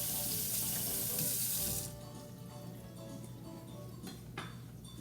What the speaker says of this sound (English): Okay, so I'm gonna rinse off my knife.